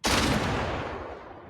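Cannons fire in the video game Trailmakers, a single loud booming blast that hits at once and then rolls into a long fading rumble, with no voices.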